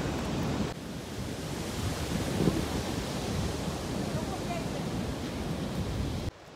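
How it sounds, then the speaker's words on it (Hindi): The Chitrakoot waterfall in Bastar district, Chhattisgarh, gives off a dense, constant roar of crashing water, close and loud, with wind buffeting the microphone throughout. "इस वाटरफॉल के साउंड के कारण थोड़ा व्लॉगिंग करने में दिक्कत आ रहा था"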